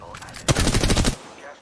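Rapid automatic gunfire crackles in the video game Apex Legends, a dense burst of about half a second to a second with loud, close shots.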